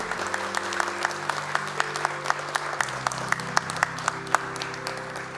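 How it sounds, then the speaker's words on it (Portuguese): Audience at a solemn session for the Tiradentes Medal applauding the honoree's wife, steady clapping from a crowded chamber with a few sharper individual claps standing out over a low sustained hum. "Vamos aplaudi-la."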